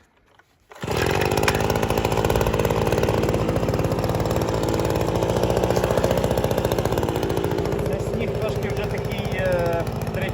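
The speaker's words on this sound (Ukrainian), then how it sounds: "Так, і пробуємо заводити." A Parkside PBLS 26 A1 petrol leaf blower starts up after a moment of quiet, then its two-stroke engine drones loud and steady close by for the rest of the clip.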